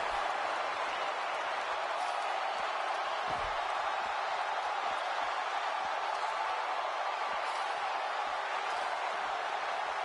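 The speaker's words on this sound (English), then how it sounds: "The crowd is buzzing." A steady roar from a wrestling arena crowd, a constant broad buzz of cheering and noise with little change, heard from within the audience.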